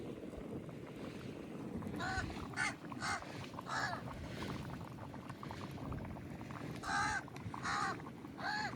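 Crows caw repeatedly in bursts, a few clear calls standing out over steady wind and low rumbling background noise.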